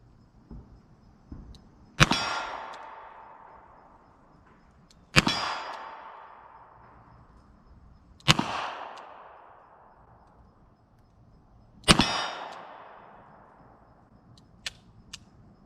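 Four loud, separate shots from a 2020 Colt Python .357 Magnum revolver with a 6-inch barrel ring out at a few seconds' spacing, each with a sharp crack and a metallic ring that dies away. A faint clang from a steel target follows near the end.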